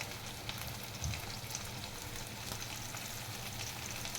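Capsicum and carrot sizzle in a hot pan for veg noodles, a faint, steady hiss of frying with light crackle and no talk.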